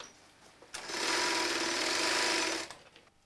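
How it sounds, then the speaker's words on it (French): A sewing machine travels along a bulky wool mattress, starting abruptly with a loud, steady mechanical whir that holds for about two seconds before stopping sharply, with quieter handling noise around it. "vient l'étape de la couture. Voilà, c'est la machine qui se déplace."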